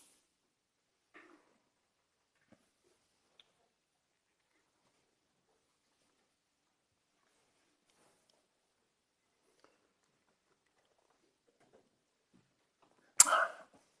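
A single sharp sneeze from someone in a lecture hall, brief and clear near the end after a long stretch of near silence.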